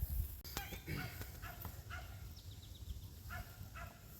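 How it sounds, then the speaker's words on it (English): Several short, sharp dog barks and yips ring out at a distance from a gallery, scattered irregularly over a low background murmur. "a little irritated with some of the dogs in the gallery"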